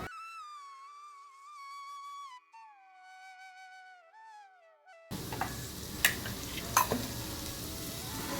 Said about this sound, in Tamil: இது ரெண்டு நல்லா கொஞ்ச நேரம் வறுத்துடு லைட்டாக